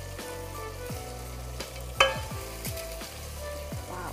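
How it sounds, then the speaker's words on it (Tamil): Mint leaves wilting in hot oil for egg biryani, a soft steady sizzle under a repeated low knocking pattern and one bright metallic clink midway. "அது போட்டு ஆயிலில் வந்து விழுந்த உடனே அது வந்து நல்லா சுருங்கிடுச்சு, சுருங்கி நல்லா இப்போ வதங்கிட்டு இருக்கு"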